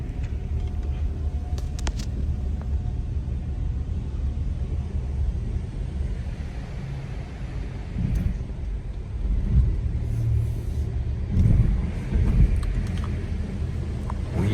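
A car drives down the ramps of an airport parking garage toward the B3 level, a steady engine rumble with echoing low road noise and occasional faint clunks throughout.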